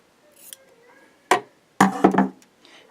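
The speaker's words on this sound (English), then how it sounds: "I'm just going to do that with a pair of scissors." Scissors trim excess fabric while piecing a quilt block: a few sharp, close snips, one alone and then a quick cluster, with quiet pauses between and no talking.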